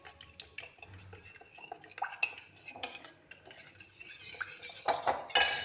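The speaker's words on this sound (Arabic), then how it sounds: "دابا نخلط مزيان" A spoon clinks and scrapes around a bowl while food is mixed for fried, crispy sardines with a spoon of spice, a close series of irregular metallic taps and scrapes that grow louder toward the end.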